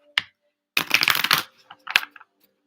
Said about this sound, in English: I'm going to give her a good shuffle